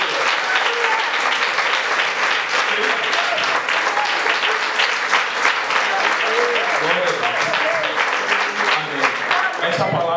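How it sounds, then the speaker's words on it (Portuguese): A church congregation applauds loudly and steadily for about ten seconds, a dense sustained wash of clapping with faint voices mixed in. "Você pode aplaudir bem forte,"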